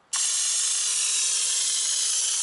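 A green foamer nozzle on a wheel-cleaner sprayer lets out a loud, steady, close hiss that starts abruptly and runs without a break. The nozzle is too dry and keeps spraying with no clear sputter.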